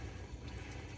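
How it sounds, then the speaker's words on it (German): Faint, continuous splashing and trickling of water inside a saltwater aquarium multi reactor, a soft low gurgle that stays steady and quiet with no talk over it. "Aber jetzt haben wir natürlich das Problem, wie ihr hört, dass es plätschert."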